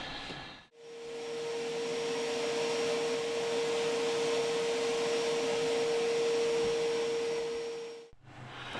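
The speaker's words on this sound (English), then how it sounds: "let's go ahead and give it a test and suck up some sawdust, and then we'll see if it goes in the bucket and what happens to our vacuum." A shop vacuum fitted with a homemade cyclone separator and bucket for a CNC router starts up, drones loudly and steadily with a constant whine while sucking sawdust, then cuts off near the end.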